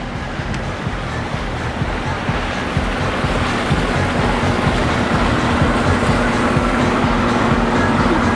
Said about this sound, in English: We got some boats coming out too.